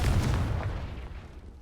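A Confringo blasting spell explodes in Hogwarts Legacy, a heavy booming blast with a deep rumble that decays over a second and a half.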